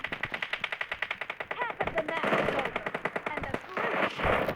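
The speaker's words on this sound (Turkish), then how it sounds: "Bak sıkıyor" Rapid automatic gunfire bursts in the mobile battle royale game PUBG Mobile, loud and repeated in fast strings with brief gaps, with a voice talking over it.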